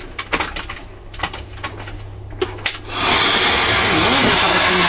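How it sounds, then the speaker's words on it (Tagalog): Several close clicks and handling taps, then a Laifen SE Lite high-speed hair dryer switches on with a loud, steady whooshing roar of airflow that continues to the end. "napaka-ganda ng aking bagong hair dryer"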